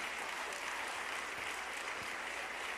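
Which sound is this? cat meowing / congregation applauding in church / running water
congregation applauding in church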